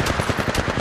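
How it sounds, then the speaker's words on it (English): Rapid automatic weapon fire in the mobile battle royale Apex Legends Mobile, a tight burst of roughly eight evenly spaced shots in under a second, loud and close with no talking. "I'm taking fire."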